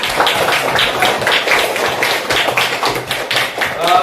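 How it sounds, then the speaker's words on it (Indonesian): A group of children clap their hands together, a steady stream of quick, overlapping claps at full loudness from start to finish, with some voices mixed in underneath. "Dan anak tepuk tangan dulu buat"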